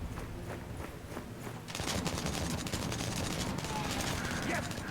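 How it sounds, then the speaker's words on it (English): Mortar fire in a military video game, a dense crackle of rapid blasts that turns sharply louder and busier partway through and continues to the end. "Man, that mortar is nice"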